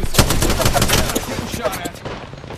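Rapid automatic gunfire in Apex Legends, loud and close, with dense bursts of shots that trail off toward the end.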